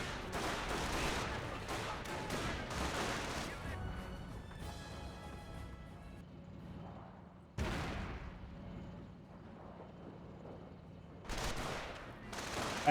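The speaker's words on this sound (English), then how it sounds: "Panzer Grenadiers receiving a bit of fire from the rifle squad." Rifle squad gunfire in the Company of Heroes battle, sharp crackling volleys in bursts with quieter gaps, moderately loud against a low battlefield rumble.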